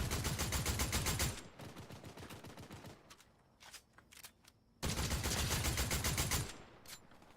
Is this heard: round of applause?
no